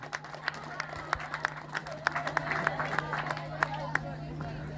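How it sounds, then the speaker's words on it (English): A crowd claps loosely in a hall, scattered sharp individual claps with uneven rhythm over a low murmur of voices and a steady electrical hum. "Can you clap for me for this?"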